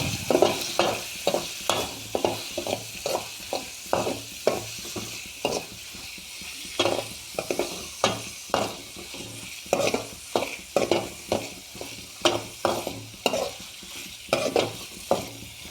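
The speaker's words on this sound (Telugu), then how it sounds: "వాటర్ పోయేలాగా బాగా వేపుకోండి." Goat heart pieces fry in a pan while being stirred: rhythmic scraping strokes, roughly one per half second, ride over a steady close sizzle, with no talking.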